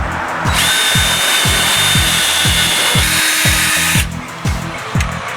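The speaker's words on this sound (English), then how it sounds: "you can take your drill, just carefully open it up a little bit." A power drill whirs steadily under load, enlarging a hole for a doorbell, with a rapid repeating grinding pulse as the bit chews into material, then eases off near the end.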